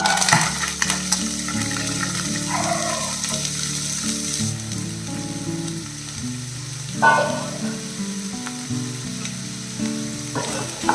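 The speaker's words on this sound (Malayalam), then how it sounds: "ഇതിൽ നമുക്ക് കട്ട് ചെയ്ത് വെച്ചിരിക്കുന്ന സ്പ്രിംഗ് ഓണിയൻ ഇട്ട് കൊടുക്കാം" Chopped spring onion dropped into hot oil sizzles loudly at first, then the hiss softens and grows patchy, while a tonal melody plays steadily in the background.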